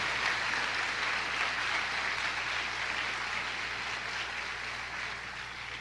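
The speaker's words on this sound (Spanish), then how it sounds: "Denle un aplauso al Señor." Congregation applauding during a church sermon, a steady wash of many hands clapping that fills the room and slowly fades toward the end, with no voices over it.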